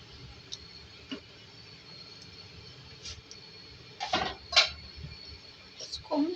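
A pot of kofta curry is shaken on the stove, giving a few scattered metallic clinks and scrapes that bunch together toward the end.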